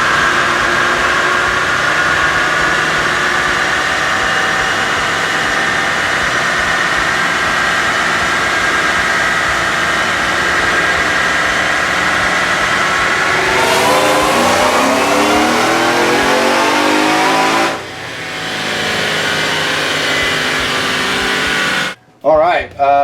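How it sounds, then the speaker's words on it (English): A 2018 Roush supercharged Ford F150 running E85 makes a dyno pull: a loud, sustained wide-open engine roar climbs for about fourteen seconds, then backs off and winds down with a few trailing revs. "so let's see what happens on this next pull."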